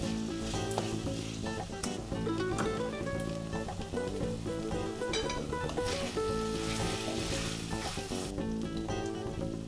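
Steady, close sizzling of mutton ghugni frying in a pan as ginger paste goes in, a continuous hiss with faint stirring scrapes throughout.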